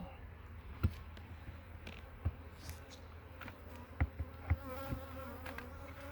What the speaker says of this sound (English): those bees that are climbing around on that lid can find their way home